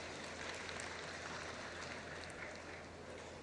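Applause from a gathering of Sarawak educators for the deputy prime minister, a steady, faint wash of clapping that holds evenly throughout, sounding distant and diffuse like rain.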